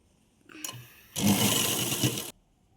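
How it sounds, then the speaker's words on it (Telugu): A sewing machine stitches an umbrella frock: a brief faint start, then a steady close burst of motor whir lasting about a second before stopping. "ఇలా స్టిచ్చింగ్ చేస్తున్నాను సేమ్ అలాగే ఇంకో కుట్టు వేయాలి"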